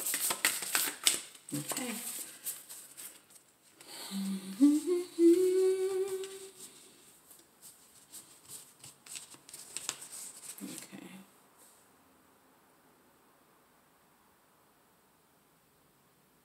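Tarot cards are shuffled during a collective reading: papery riffling bursts come near and clear, a person speaks briefly between them, and the sound ends in quiet.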